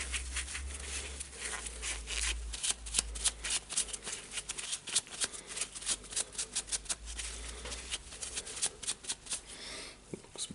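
Paper rubbing and wiping inside the blade holder of a Makita DJR186 reciprocating saw after spraying it with cleaner, a rapid series of close, crisp scrubbing strokes with a low hum underneath.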